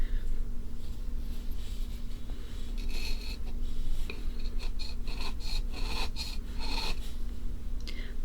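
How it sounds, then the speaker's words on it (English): A tool scrapes and rasps against a gem dig block in short repeated strokes, close and crisp, with gritty scratching that comes in bursts. "we're going to try scraping a bit on this and seeing if that works"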